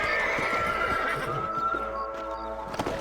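A horse whinnies in a long, wavering call in Red Dead Redemption, with clip-clopping hooves and a game-like ambient backdrop; a second snort or neigh sounds near the end.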